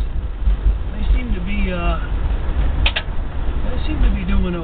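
1971 Plymouth Roadrunner with manual brakes driving, engine and road noise rumbling steadily beneath someone speaking over it.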